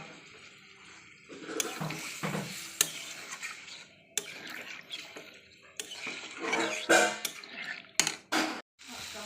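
Water poured into a fish curry pot with vegetables, coming as several splashing, clattering bursts of varying loudness with brief pauses between them.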